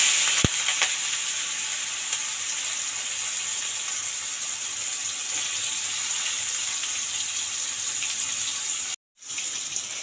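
Chopped onion frying in a pan, giving a steady, bright sizzle that runs almost without a break, with a faint clink near the start and one short silent gap near the end.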